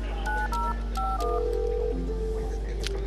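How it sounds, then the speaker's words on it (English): A phone is dialed in the video game The Darkness, giving a rapid run of distinct touch-tone beeps at varied pitches over a steady low hum, with faint game ambience beneath. "here's the phone. That's Rob's office number."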